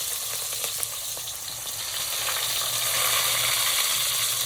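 Onions sizzle steadily in hot oil in a home kitchen pan, a dense continuous frying hiss that swells slightly louder toward the end, with no voices.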